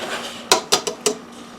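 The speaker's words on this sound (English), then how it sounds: "Now into this nice bowl, we're going to add the pasta." Cooked pasta tossed into a bowl, giving four sharp, close clinks and clatters spaced about a fifth of a second apart against a quiet kitchen background.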